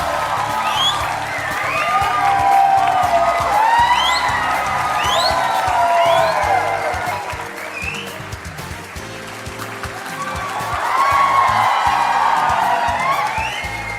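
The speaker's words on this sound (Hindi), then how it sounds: "ये तालियां बजते रहें" Studio audience on an Aap Ki Adalat style show applauds and cheers as a Bhojpuri singer-actor is welcomed, sustained crowd clapping with whoops and shouts swelling loudly and rising again toward the end.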